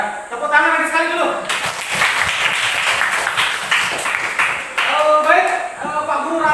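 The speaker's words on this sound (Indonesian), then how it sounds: "tepuk tangan lagi sekali dulu" Applause from a classroom of students, a dense burst of clapping that swells and holds for several seconds, with voices talking before and after.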